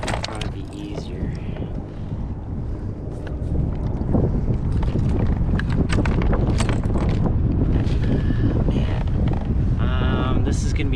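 Steady wind buffets a kayak and the microphone while fishing on open water, a loud continuous rumble with water sloshing and scattered knocks against the hull throughout.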